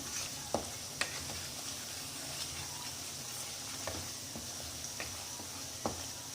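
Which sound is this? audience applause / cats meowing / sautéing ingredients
sautéing ingredients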